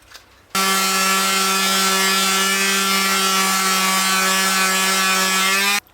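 Sanding the top surface of a wooden piece gives a steady, loud, tonal whir that starts abruptly and runs unbroken for about five seconds before stopping.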